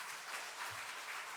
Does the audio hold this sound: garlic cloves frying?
no